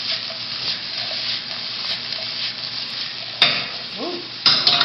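Vegetables sauté in a hot pan, a steady broadband sizzle running throughout, broken by a couple of louder scraping stirs near the end; no one speaks.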